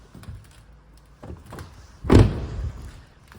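A Vauxhall Corsa tailgate opens with a few soft clicks and then a heavy thunk as it releases, close by and without talk.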